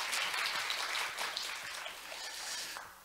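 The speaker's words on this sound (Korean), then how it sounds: "우리 센터장님 위해서 한번 박수 한 점" An audience at a Jeju youth forum on sustainable festivals claps for the centre director, a soft, fairly distant patter of many hands that thins toward the end.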